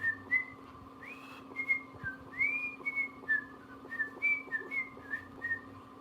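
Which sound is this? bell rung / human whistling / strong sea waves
human whistling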